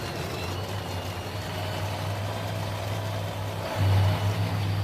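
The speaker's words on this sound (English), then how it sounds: "The cars are started." Nitro funny car dragsters fire up at a drag strip, a deep steady engine drone holding throughout and swelling louder near the end, with no talk over it.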